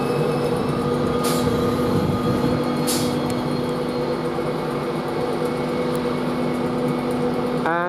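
Locomotive 91114 Cathedral at Grantham station: a steady electric hum with tonal whine, joined by brief bursts of higher hiss, continuous and fairly close.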